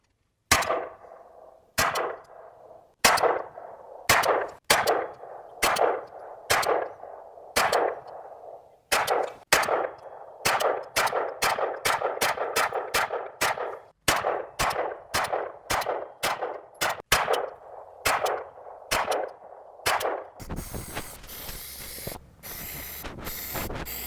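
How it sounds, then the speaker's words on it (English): Kalashnikov KP9 9mm pistol fired at a self-healing target, a long string of sharp shots, slow and spaced at first, then quickening into rapid fire before a brief hissy noise at the end. "Next up, we're going to shoot the Kalashnikov KP9. Also a 9mm."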